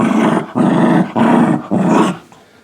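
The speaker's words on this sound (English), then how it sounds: "Stop growling." A pet dog at home growls close up in four rough, throaty bursts, each lasting about half a second with short gaps between, the last one trailing off quietly.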